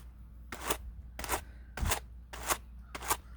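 Curly BFL wool fleece worked on hand carders, five evenly spaced scratchy brushing strokes, close and distinct, over quiet room tone with no talking.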